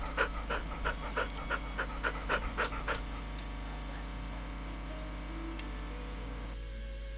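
A dog pants in rapid rhythmic bursts in Agricultural Simulator Historical, about ten quick breaths close by over a steady low hum, then fading into ambient game noise.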